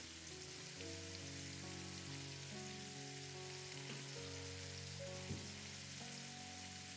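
Prawns fry in a pan with a steady, close sizzle and crackle just after a sprinkle of water, with no voice over the bubbling.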